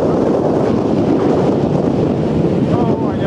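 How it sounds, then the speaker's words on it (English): A strong outdoor gust buffets the microphone near a waterwheel, a loud low rumbling roar with flutter that holds throughout with no break. "Got a great big gust of wind up"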